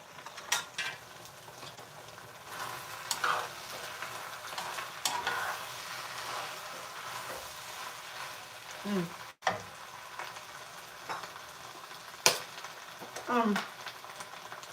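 Chicken livers and gizzards stir-frying in a pan give off intermittent sizzles, with scraping stirs and clinks of a utensil, moderately close and without talk.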